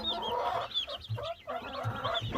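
Newly arrived meat chicks and adult hens make soft clucks and high peeping calls in a brooder, close by and continuous with brief pauses.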